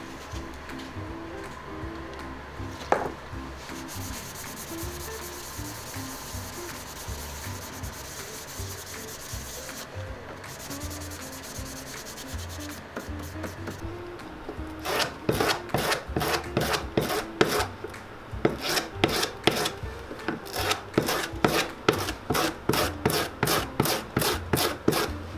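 The heel base of an Alden shell cordovan shoe is roughed up by hand for a heel replacement: quiet scraping at first, then loud, fast rhythmic rasping strokes, close and alone.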